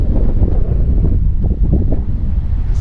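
Strong coastal wind at a cape pummels a GoPro microphone in close, constant low buffeting gusts, with surf faintly underneath and no voices.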